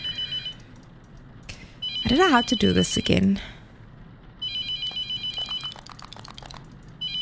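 Phone ringing in The Mortuary Assistant horror game, a repeating electronic ring under a man's speech, louder in the first second and again through the last three, with a burst of talk between.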